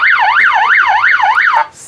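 A loud electronic siren on a modified Yamaha Aerox 155 scooter wails up and down in quick, regular sweeps, about five cycles, then cuts off abruptly.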